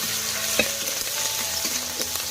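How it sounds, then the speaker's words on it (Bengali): Onions are stirred in hot mustard oil in a wok, a steady close sizzle with scraping strokes running throughout and no voices. "এবারে সরষের তেল দিল, এবারে একটু ভালো করে নেড়ে নিচ্ছে মা"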